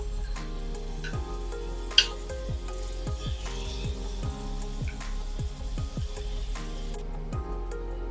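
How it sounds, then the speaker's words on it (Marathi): Prawns frying in about two tablespoons of hot oil in a pan on a gas stove, with a steady close sizzle and repeated light ticking taps as pieces are placed and shifted, no talk. "आता आपण हे फ्राय करून घेऊया गॅसवरती पॅनमध्ये मी दोन टेबल स्पून इतकं तेल गरम करून घेतलेलं आहे"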